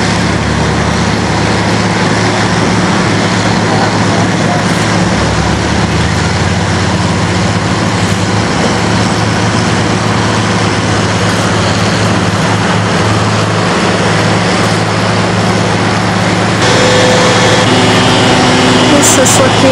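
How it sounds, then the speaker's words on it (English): Flood pump running during the 1993 Mississippi River flood at Keokuk, a steady, loud mechanical drone with a constant low hum throughout, with a person talking over it. "Pump's been running about a week."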